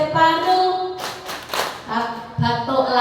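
Rhythmic group clapping of the "Tepuk TB" chant at a tuberculosis awareness session, crisp bursts of claps in a patterned beat between stretches of sung or chanted voices.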